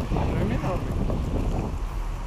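Wind buffets the microphone steadily on an outdoor airsoft court, a continuous loud low rumble with no voices.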